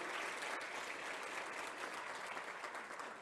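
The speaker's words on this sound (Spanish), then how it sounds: "Vamos a aplaudir más fuerte, vamos." Sustained applause fills a church sanctuary as the congregation claps harder, a thick continuous roar of many hands heard from a distance and fairly quiet overall.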